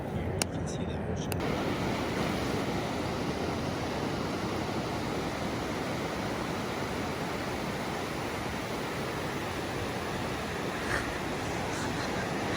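Ocean surf at Long Beach near Tofino washes in as a continuous broad hiss and roar, steady and moderately loud, with faint wind across the microphone.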